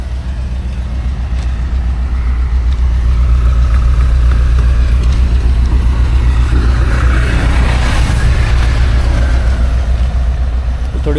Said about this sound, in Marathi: थोडी कोल्ड स्टार्ट करतोय तिला आता